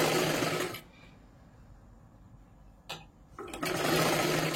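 A sewing machine runs in two loud, steady bursts while stitching a blouse, with a quiet pause between them broken by a brief clack.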